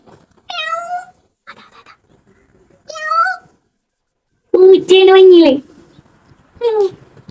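Several short, high meows from a nearby cat, separated by brief pauses, one longer and lower than the others.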